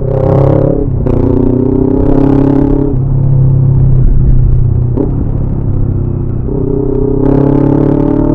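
A motorcycle engine revs repeatedly, rising and falling in pitch, loud and close, with steady rumbling between the revs.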